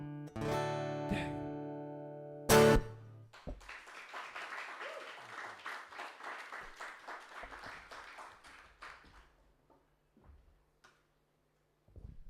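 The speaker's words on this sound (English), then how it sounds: "Another round of applause, please, for Simon Mason, Hightown Pirates" A short piano-like musical ending gives way to a round of audience applause at a book launch, rapid clapping that swells briefly and then thins out to scattered claps before fading to near silence.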